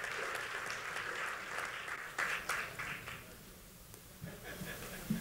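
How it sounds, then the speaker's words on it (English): Moderate audience clapping for Craig at a door-prize event, a scattered round from a modest crowd that thins out near the end, with a few louder individual claps and faint voices. "We need one more round of applause for Craig."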